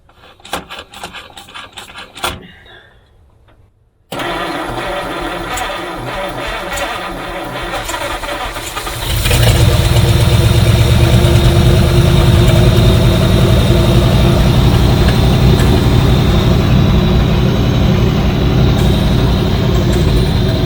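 Car engine on a revived vehicle with a major engine problem, starting after some clattering and clicks, then settling into a loud, rough, steady idle that grows fuller partway through.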